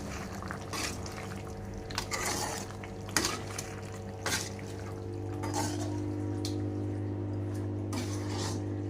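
Broad bean and dry fish curry stirred in a pot, with soft scraping and clinks of a spoon against metal over a steady low hum and gentle bubbling, a few sharper knocks standing out.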